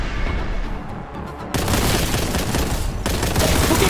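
Bolt gun firing in the video game Warhammer 40k Boltgun, continuous loud, dense booming fire filling the whole stretch, with an abrupt surge in intensity partway through and a brief dip near the end.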